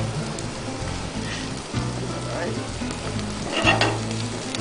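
Garlic frying in a pan for arroz caldo, a loud, close, continuous sizzle with stirring scrapes and a brief surge of crackling partway through.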